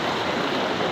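Rushing water of a flooded, swollen stream near Anumula village in Nalgonda, Telangana: a steady, loud broadband roar that fills the whole second without break.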